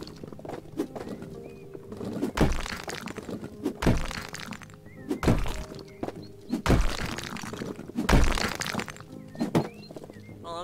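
Walls being smashed apart in House Flipper, a run of heavy thuds and cracking impacts spaced a few seconds apart, close and loud, with crumbling debris and small game sounds between hits.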